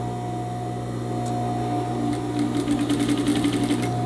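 A sewing machine stitches a straight skirt, starting with a short reverse backstitch: a steady mechanical hum with rhythmic needle clatter picking up toward the end, close and continuous, no talking.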